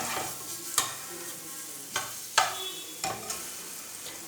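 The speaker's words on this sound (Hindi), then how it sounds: "हल्का सा इसे फ्राई करेंगे।" Garlic and other ingredients for a radish chutney fry lightly in hot oil, giving a soft steady sizzle broken by several sharp scraping stirs of a spoon against the pan, with no talking.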